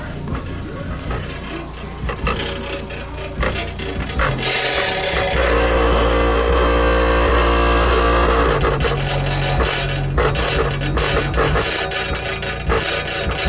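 Heavy car bass from two 12-inch subwoofers in a custom box in a 1975 Ford Landau pounds loudly, deep and continuous, with rattling and buzzing from the windows and trim over a faint voice.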